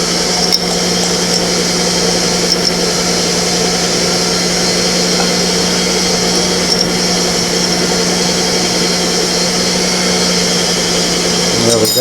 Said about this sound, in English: we're going to mix this for 15 minutes